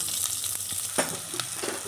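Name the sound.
onions and chillies sautéing in a pan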